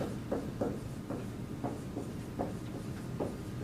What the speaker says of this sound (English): So let's write that down.